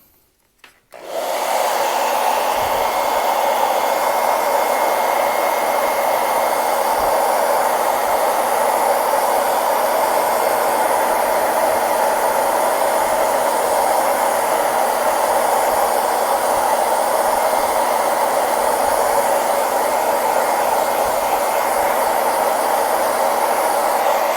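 A hair dryer blows steadily on a watercolor painting of a Polaroid-style picture, switching on after a brief pause and then running as a loud, constant whooshing hiss for over twenty seconds with no talking.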